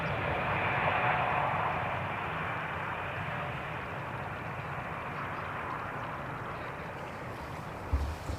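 A KLM airliner lands on runway 18R at Amsterdam Schiphol, its steady, broad jet roar loud and sustained throughout, easing slightly after the first couple of seconds with a brief thump near the end.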